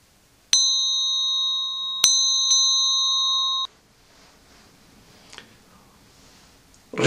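A small bell rings with clear, sustained metallic tones: one strike, then two more in quick succession. It rings out alone before cutting off into quiet room noise.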